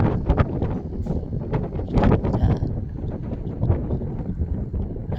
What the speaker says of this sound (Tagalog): Pasensya na kayo at malakas ang hangin mga par.